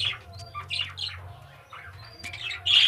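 Budgerigars squawk and chirp in an aviary, with a dense cluster of high, scratchy calls near and far over a steady low hum, and a louder burst of squawking at the end; a few other birds such as a cockatiel are housed nearby.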